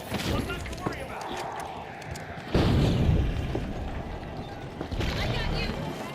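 Frag grenade going off in The Finals on the Galaxy Estates map, a deep boom rising out of dense, continuous game noise with other impacts around it.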